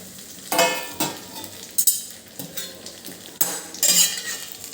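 Utensil scrapes and clinks as Kathiyawadi stuffed chillies are gently turned in a covered pan, several distinct stirring strokes spaced a second or so apart over a faint background sizzle, close and fairly loud, with no talking.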